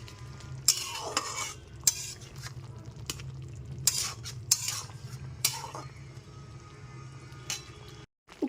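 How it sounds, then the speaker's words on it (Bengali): Papaya curry stirred in a pan after ghee goes in, repeated sharp scrapes and clinks of a spoon against the pot over a low simmering sizzle, close and intermittent. "ঘিটা দিয়ে খুব ভালো মতো মিশিয়ে নিচ্ছি"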